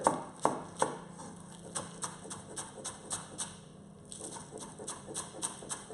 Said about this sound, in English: all I'm going to do is just slice it nice and thin